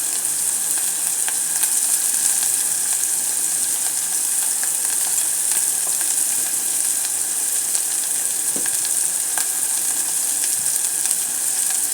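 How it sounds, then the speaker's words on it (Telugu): Masala spices frying hard in a pan for chicken curry, a loud, dense, continuous sizzle with faint scattered crackles and no voices. "బాగా మసాలా వేపని"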